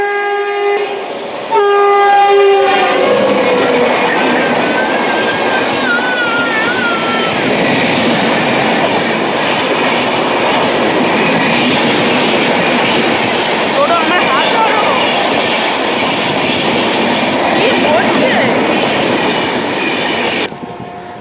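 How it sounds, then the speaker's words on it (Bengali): A train pulls into a station, sounding its horn in a few loud blasts at the start before a heavy, continuous rumble of wheels and cars rolling past close by. "ট্রেনটা আসতে পরে বলছি"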